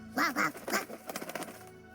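A chicken-like bird squawks in a visual novel video game, with a few sharp quacking calls close up followed by rapid fluttering clatter.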